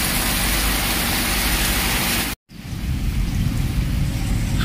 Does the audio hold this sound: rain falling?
yes